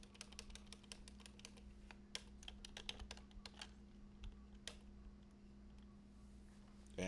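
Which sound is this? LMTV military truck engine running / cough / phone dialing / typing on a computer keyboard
typing on a computer keyboard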